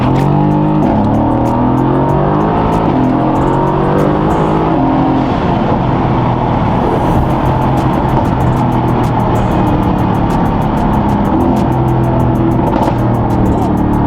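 A 900 hp Mercedes-AMG GT R on Cup 2 tires pulls hard, its engine roaring loud and close through rising revs and gear changes, with voices faintly underneath.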